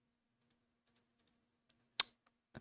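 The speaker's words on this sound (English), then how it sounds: "Look at all that typing." Sparse computer keyboard keystrokes: faint, scattered clicks spread over a couple of seconds, with one sharp, much louder key strike near the end and another at the close.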